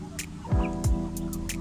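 Native chickens and turkeys at a backyard range during feeding, a few brief clucks and gobble-like calls up close, with soft pecking and rustling under faint background noise.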